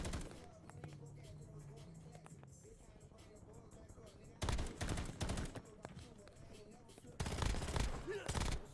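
Video game gunfire: two loud bursts of rapid automatic shots break out after a quieter stretch of background battle noise, with a radio-style voice speaking early on.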